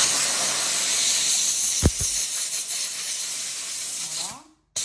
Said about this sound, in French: J'envoie la vapeur,